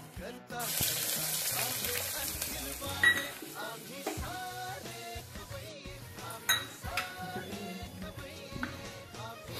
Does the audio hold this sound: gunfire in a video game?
no